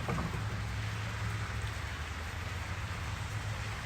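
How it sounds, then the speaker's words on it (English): Steady rain falling and pattering close to a phone held outdoors, a dense continuous hiss with no pauses and no voices. "It's raining on my phone."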